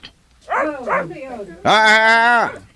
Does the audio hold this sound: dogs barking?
yes